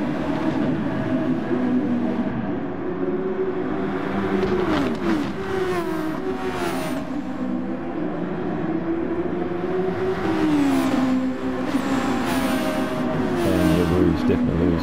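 Super Formula race cars at Barcelona, engines droning loud and continuous with rising and falling pitch as cars pass, a voice commenting faintly underneath.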